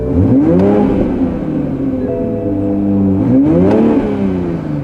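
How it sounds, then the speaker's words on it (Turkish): The new Toyota Supra's engine is blipped twice, close and loud, with two revs that climb and fall back to a smooth idle between them and no talking. "Hafiften bir gazlayalım."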